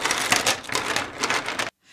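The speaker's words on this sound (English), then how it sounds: "Here's the sound of the chains they wear around their necks." Dense metallic clinking and rattling of heavy chain links, continuous and fairly close, with uneven bursts, ending abruptly into near silence.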